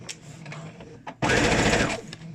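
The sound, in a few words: sewing machine stitching elastic onto a home-made mask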